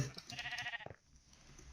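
A single short sheep bleat from the video game Minecraft, wavering and close, fades out within a second into quiet background noise.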